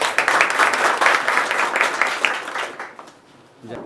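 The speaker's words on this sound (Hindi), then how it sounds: "आप लोग थोड़ा ताली बजा के स्वागत कीजिए।" Audience applause welcoming a police sub-inspector at a student club gathering, dense steady clapping from a crowd that fades out toward the end.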